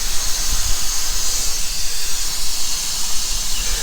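A continuous loud hiss of air escaping from a massive leak during a pressure test on a SeaDoo RXP-X 260, close and steady, with faint low rumbling beneath it and no voices.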